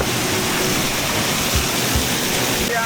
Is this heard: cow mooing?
no